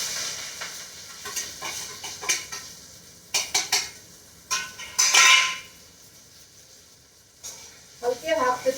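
Brinjal (eggplant) pieces sizzling in hot oil with no tempering, with bursts of frying hiss, stirring and clinks of a utensil against the pan throughout.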